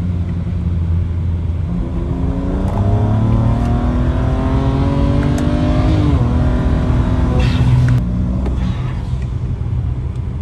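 A BMW with an N54 engine accelerates hard and steadily in a roll race, its pitch climbing through rising gear harmonics, loud and close, with a brief shift midway and no talking.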